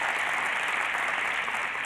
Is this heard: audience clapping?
yes